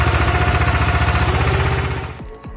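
A hydraulic log splitter with a 26.5-ton ram runs on its engine, a loud rapid chugging pulse that fades out near the end, followed by a couple of brief sharp knocks.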